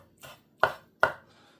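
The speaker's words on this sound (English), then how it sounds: "I'm just going to quickly chop them up." Knife chopping cooked egg bites on a board, three sharp separate chops spaced evenly, close and clear with no talk.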